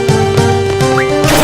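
Music from Final Fantasy VIII on Nintendo Switch, a thinner MIDI-like rendition of the video game track with synthetic sustained tones and pulsing beats, loud and continuous for about a second and a half, no voices.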